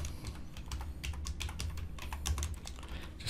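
Quick, uneven keystrokes on a computer keyboard clatter close up while someone edits text in a code editor, with no one speaking.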